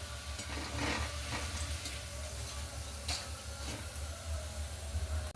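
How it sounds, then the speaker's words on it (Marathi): Pea rolls deep frying in hot oil over low to medium heat, a continuous bubbling sizzle close by with a few light ticks and scrapes, steady and unbroken, no talking. "तर या पद्धतीने मी आता राहिलेले रोल तळून घेते"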